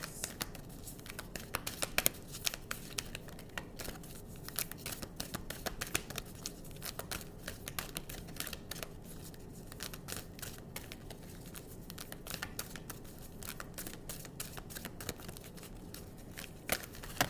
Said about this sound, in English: Give me one more card for Libras.